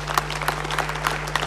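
An audience at a commemorative television gathering claps, sparse separate hand claps over a steady low hum.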